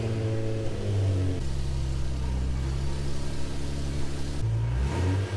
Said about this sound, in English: I want to give it a start up, and I'm going to put it in first gear, second gear, third gear while it's up in the air